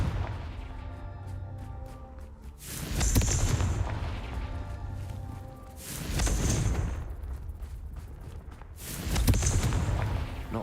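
Confringo fire spells explode in Hogwarts Legacy, three heavy booming blasts a few seconds apart, each a loud roaring burst with crackling debris that fades before the next.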